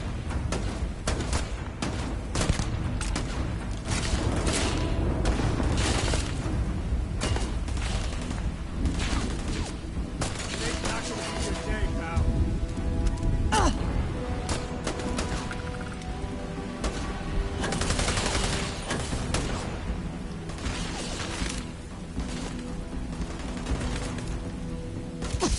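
Rapid gunfire aimed at the player in the video game Starfield, a steady stream of bursts and shots going on throughout with booms and crashes mixed in, dense and fairly loud, with no talk.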